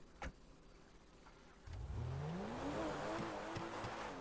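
A car engine in Grand Theft Auto V starts up and revs, a short click first, then a low rumble that rises in pitch and holds steady, fairly loud and alone.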